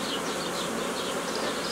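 Honey bees buzz inside a hive during colony splitting with a starter family, a dense steady hum filling the whole moment, close and continuous with no talk.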